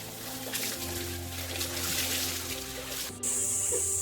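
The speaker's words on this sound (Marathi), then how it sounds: "इथे बघा ओव्हरफ्लो होऊन पाणी अजूनपर्यंत वाहतंय" Overflowing water flows steadily through a sacred grove in a Konkan village during the hot, dry month of May, with a close, continuous rushing trickle and a brief dip near the end.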